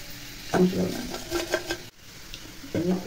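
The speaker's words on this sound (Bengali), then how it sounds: "এখন ভাত ভেজে নিচ্ছে, সাথে মশলা" Rice fries with spices in a pan, a soft sizzle with stirring scrapes and clinks, close by, while a voice talks over it at the start and the end.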